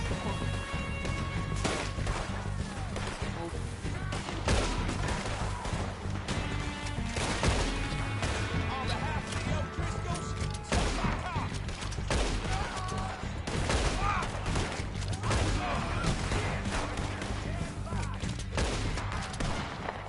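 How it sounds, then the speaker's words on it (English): Dense, continuous gunfire from a Red Dead Redemption 2 shootout, many overlapping shots and crashes filling twenty seconds over a steady game soundscape, with no clear speech. "they're shooting everyone else but me"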